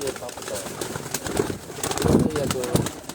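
A White Gold breed pigeon coos softly in short repeated phrases. Someone talks over the calls, with faint background noise.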